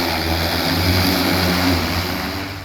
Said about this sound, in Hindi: पावर ऑन हुआ और चंद सेकंड में एक आदमी को लेकर ड्रोन हवा में उड़ने लगा।